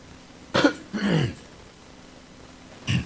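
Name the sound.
coughing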